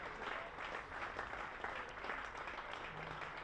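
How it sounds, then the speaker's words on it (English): Warm applause from spectators at a women's cricket match, the Rachael Heyhoe Flint Trophy between Northern Diamonds and Southern Vipers, fairly quiet and distant, a steady patter of clapping across a ground. "She'll get a warm round of applause."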